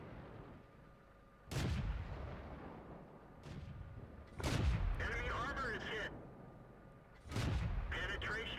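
Tank cannon fire in World of Tanks from an Easy 8 tank: three heavy booming shots spaced a few seconds apart, each with a long rumbling tail, someone talking between them.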